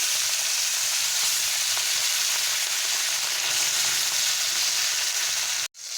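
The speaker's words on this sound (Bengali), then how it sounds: "মাছগুলো আমি প্রথমে ভালো করে ভেজে নেব তার জন্য তেলটা গরম হয়ে গেছে" Fish pieces frying in hot oil for a Bengali fish curry, a dense, steady loud sizzle and crackle close by that cuts off abruptly near the end.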